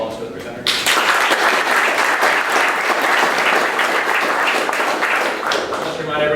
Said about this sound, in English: One more round of applause for the presenters.